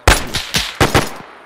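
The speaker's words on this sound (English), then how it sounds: "We're firing now." Gunfire in a World War II Operation Market Garden battle reenactment: a quick series of five or six loud, close shots in an uneven rhythm, then a short fading tail.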